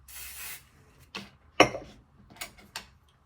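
Hairspray mists onto a finished side twist hairstyle in short bursts: one longer hiss, then several brief sprays with small handling clicks between them, close and fairly quiet.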